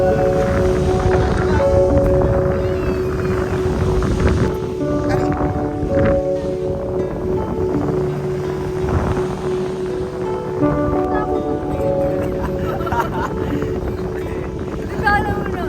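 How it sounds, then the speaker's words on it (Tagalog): Strong wind buffets outdoors at night, a rough, constant rumble across the whole stretch. People talk over it, and steady tonal sounds run underneath. "super mahangin din"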